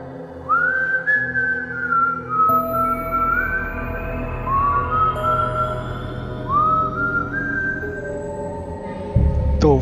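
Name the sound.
eerie whistling of El Silbón legend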